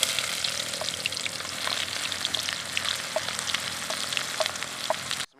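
Finely chopped onions fry in oil with garam masala, giving a steady, close sizzle with scattered pops and crackles throughout, and no voices.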